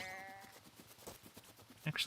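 A sheep in a video game gives a quiet, brief bleat at the start, followed by faint game sounds while a player talks.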